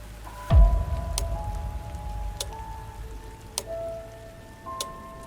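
Steady rain falls on a dark autumn night, a constant wash of drops with a heavier splash near the start and a few sharp taps scattered throughout.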